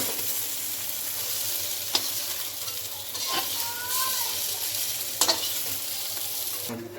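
Bori, small lentil dumplings, frying in a pan while a shukto is being prepared: a steady, even sizzle runs throughout, with a few sharp stirring scrapes over it.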